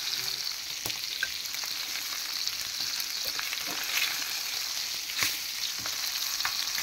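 Fish frying in oil in a large frying pan, a steady dense sizzle and crackle close by with occasional sharp pops and spatters throughout, no talking.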